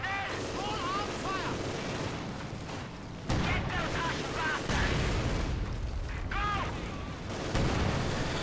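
Mortar fire and explosions from a tactical real-time strategy battle, with dull booms and rumbling blasts over constant battlefield din, whistling shells and faint unit voices.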